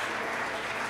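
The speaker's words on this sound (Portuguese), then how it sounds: "Aplauda o Senhor Jesus" A dense burst of clapping from a crowd fills the moment, loud and continuous, with a hint of voices mixed in.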